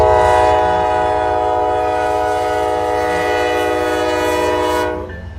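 A Norfolk Southern locomotive leads a freight train past, its horn sounding loud and sustained for about five seconds before cutting off, with heavy rumble of the train underneath.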